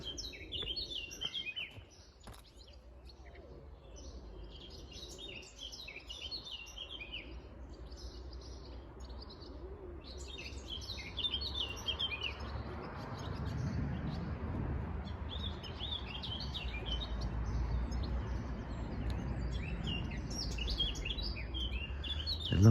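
Birds calling and chirping from a tree beside a wharf, likely Eurasian collared doves and pigeons among them, with steady high chirps throughout and a low outdoor rumble that grows in the second half.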